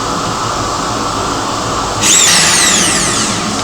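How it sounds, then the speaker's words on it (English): A drill cuts a round hole in a motorcycle fender, its steady high whine growing harsher and louder halfway through as the cutter bites into the metal, with no voices. "especially if the drill's going the right way"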